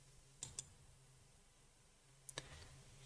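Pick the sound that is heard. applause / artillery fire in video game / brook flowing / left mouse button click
left mouse button click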